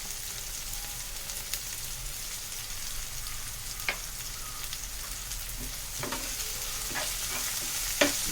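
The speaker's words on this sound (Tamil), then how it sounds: "இந்த காய் பாதி ஃப்ரை ஆனால் போதும், ரொம்ப ஃப்ரை ஆக வேண்டியதில்லை." Carrots and beans stir-frying for vegetable fried rice, a continuous soft sizzle broken by occasional sharp scrapes and clinks of a spatula against the pan, with no talking.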